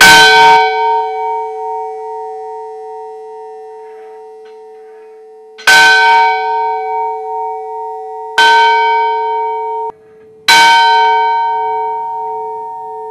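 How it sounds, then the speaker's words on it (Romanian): Funeral church bells in Rovinari toll loudly and near: four separate strikes spaced several seconds apart, each ringing out and slowly decaying, with no voices. "Sunt clopotele de înmormântare care au răsunat astăzi în Rovinari."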